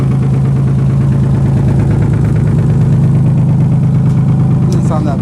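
Nissan 300ZX engine idling with an exhaust leak, a loud, close, steady throbbing rumble with rhythmic pulsing and a faint higher ticking.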